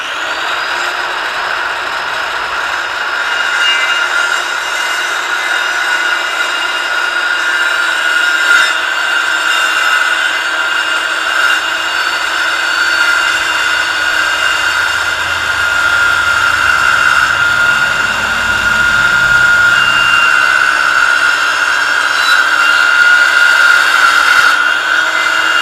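A power saw cuts wood for building plant benches, running as a steady, loud continuous whine for the whole stretch, with a slight rise and fall in load and no talk.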